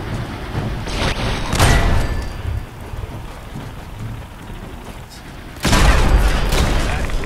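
Turret gunfire in Fallout 4's Nuka World erupts as dense, crackling bursts, loud at first, easing into a steady rattling roar, then surging hard again near the end.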